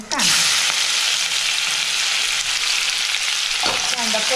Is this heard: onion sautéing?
yes